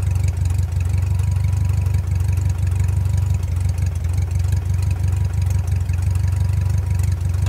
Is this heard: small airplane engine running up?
yes